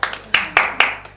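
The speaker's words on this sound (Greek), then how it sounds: "Ένα χειροκρότημα και για το backstage που ήταν και σήμερα εδώ." A few people clap in short, sparse bursts, about four or five distinct claps close by, with no talk over them.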